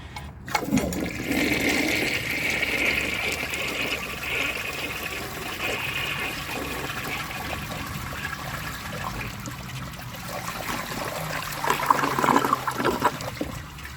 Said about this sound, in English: So with a little bit of flushing, a little bit of extra flushing, this toilet has taken everything I put in it.